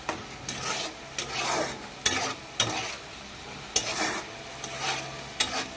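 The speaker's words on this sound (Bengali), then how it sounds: "আবারও ভালো করে নেড়ে নিচ্ছি।" A vegetarian ridge gourd curry, wet with water released by the gourd, is stirred in a pan. Close, rhythmic scraping strokes come in regular bursts with sharp clacks between them over a low sizzle, and nobody talks.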